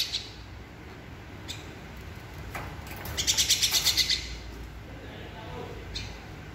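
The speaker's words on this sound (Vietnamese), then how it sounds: "Này em chim sáo nó còn la la nè, mình cho nó vài hộp nữa cho nó ngưng la luôn." A baby myna bird calls for food, a quick run of close, shrill rhythmic chirps lasting about a second, with fainter scattered peeps before and after and soft background noise.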